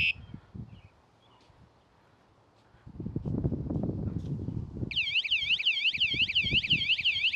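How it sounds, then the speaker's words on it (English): A Jetson Bolt Pro e-bike security alarm goes off partway through, a loud, continuous warbling siren that sweeps up and down, following a stretch of low handling rumble and clatter from the bike. "then the alarm is going to trigger"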